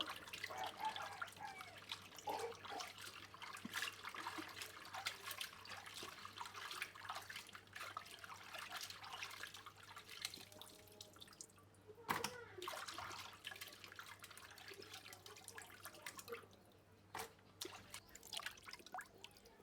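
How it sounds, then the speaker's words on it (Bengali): Cut pieces of mina carp being washed in water, with quiet intermittent splashes, drips and trickling sounds close by, low in level throughout. "মাছগুলো ধুয়ে দিয়ে উঠাই নিচ্ছি, খুব ভালোভাবে ধুয়ে নিচ্ছি।"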